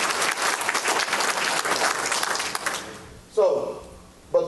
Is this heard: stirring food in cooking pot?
no